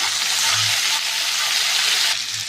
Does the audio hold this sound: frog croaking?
no